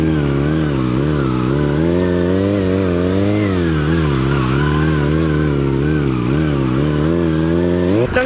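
A Kawasaki 636 motorcycle engine held for a wheelie, its steady droning note wavering up and down in pitch as the throttle is worked, loud and close, rising sharply at the end.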